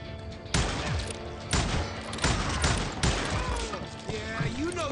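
Gunfire in the Western shooter Call of Juarez: Gunslinger, with several loud bursts of shots breaking out in sharp clusters across a few seconds, dense and close, while voices shout over the shooting.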